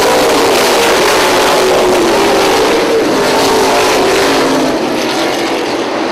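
Late model race cars roar off at the green flag at a 2009 oval race, a loud, dense engine drone that stays continuous and close throughout, with engines revving.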